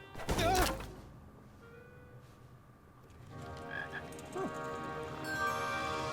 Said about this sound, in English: I got me a frog